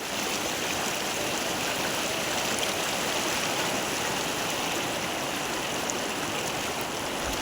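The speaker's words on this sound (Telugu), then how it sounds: "పెద్దవాగుపై ఉన్న బ్రిడ్జిపై నీళ్లు ఎక్కి పారడంతో" Floodwater from the Peddavagu stream pours over a bridge near Ammapalli village, a steady, loud, unbroken rush of water with no voices.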